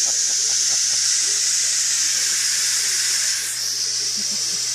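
Steam hisses steadily and loudly from a pressure cooker cooking vegetables, a continuous airy rush that dips slightly partway through over a faint low hum.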